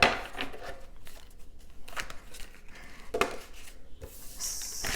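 Tarot cards are shuffled by hand, giving soft, close, irregular riffling and rustling bursts over quiet background with no speech.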